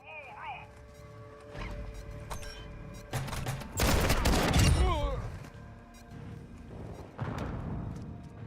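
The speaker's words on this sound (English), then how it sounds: "I do hear players shooting bots." Gunfire in the DMZ video game as players shoot at bots: bursts of rapid shots build to a dense, loud volley midway, with scattered cracks before and after, and voices cut in between.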